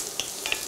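Onion and garlic frying in coconut oil, a soft, brief crackle and sizzle with a couple of faint stirring clicks.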